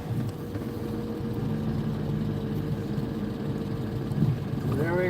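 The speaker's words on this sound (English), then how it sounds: "Oh, I love the sound of my truck." A truck engine idles with a steady low rumble close by, holding an even drone throughout before a brief rising whine near the end.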